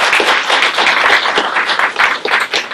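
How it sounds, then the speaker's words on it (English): Audience applause at a Lions Club Citizen of the Year event, loud close clapping from a modest crowd with individual claps standing out in an uneven rhythm. "so let's give her a round of applause"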